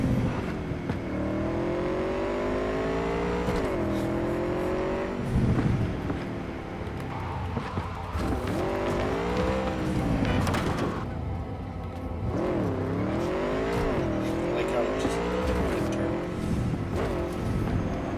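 A car in Cyberpunk 2077 is driven hard through a street race, its loud engine rising and falling as it revs through the gears, with steady wind rush underneath.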